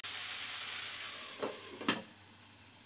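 Okra curry stirred in a pan just before covering, with a steady soft sizzle and a few quiet scraping strokes of the spoon, faint and close, no voices.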